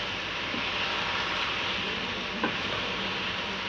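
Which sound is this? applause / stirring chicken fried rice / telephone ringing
stirring chicken fried rice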